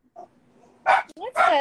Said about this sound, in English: Yes. That's a dog.